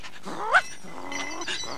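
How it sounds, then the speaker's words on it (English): A dog in a children's television show gives a short growling whine that rises into a brief yelp, close and alone, then trails into soft low grumbling. "dog"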